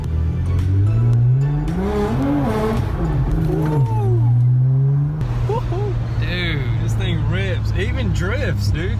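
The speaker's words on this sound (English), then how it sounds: "Drifts, dude. It drifts actually pretty good because the front wheels, you know, it's all-wheel drive" An all-wheel-drive Nissan GTR, rebuilt after a wreck, drifting with its engine droning and revving loudly from inside the car and tire squeal rising and falling, with a shift in engine pitch midway.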